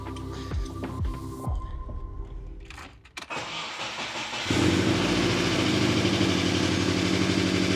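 A right-hand-drive Subaru Impreza GC8 cranks with a few rhythmic starter turns, stalls briefly, then fires up and settles into a steady, loud, close idle with no talking.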